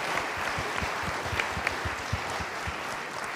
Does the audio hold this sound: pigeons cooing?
no